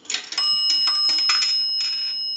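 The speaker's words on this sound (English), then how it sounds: "A dime will ring the bell 2 times." On an Automatic Electric three-slot payphone, a dropped dime rings the coin bell twice, in clear metallic chimes with a bright sustained ring, heard close and alone amid brief coin rattling.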